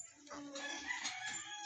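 A rooster crows a drawn-out cock-a-doodle-doo at a distance in a backyard where chickens are kept for the table. The crow is fairly faint but clear over a quiet background.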